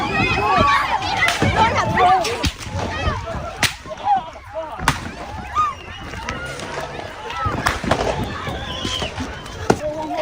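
Gunshots ring out during a shooting attack at Bondi Beach in Sydney, Australia, a string of sharp, loud cracks like fireworks, scattered through ten seconds amid shouting voices and commotion of people running for cover.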